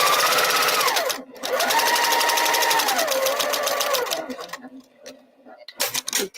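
A sewing machine stitches a three-yard quilt in long, steady runs of rapid needle ticking, with a brief pause near the start and sputtering, stop-start bursts toward the end; no voices.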